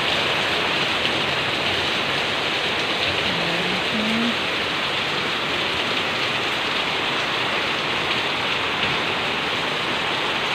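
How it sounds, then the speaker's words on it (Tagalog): Heavy typhoon rain pours steadily in Manila during Typhoon Kristine, a dense, loud, continuous hiss and patter on surfaces that fills the whole stretch without letup. "Malakas na pang ulan dito sa amin."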